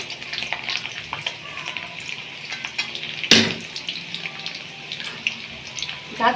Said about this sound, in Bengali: এখন আমি রসুন কুচিটা দিয়ে দিচ্ছি রসুন কুচিটা আমি একটা টিফিন সেকেন্ড ভেজে নিচ্ছি